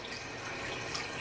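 Warm water runs from a tap over a makeup beauty blender sponge, a soft, steady hiss and trickle at low level with no talking.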